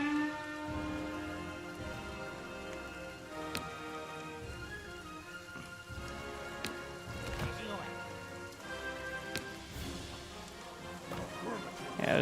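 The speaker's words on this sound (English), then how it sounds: "the rain won't help" Continuous rain pattering in the real-time strategy video game Tabletop Tavern, a steady even wash of drops with occasional sharp clicks, sitting under a layer of game music throughout.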